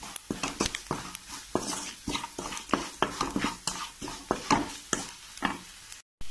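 Meat masala is stirred in a frying pan for a kappa dish, with rhythmic spatula scrapes and knocks over a light sizzle, close and steady, then a short silent break near the end.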